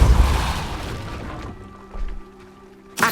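A Depulso spell blast in Hogwarts Legacy lands as a loud, deep whooshing impact that rumbles and fades over a couple of seconds, followed by a softer thud and a lingering magical hum, with another sharp hit at the end.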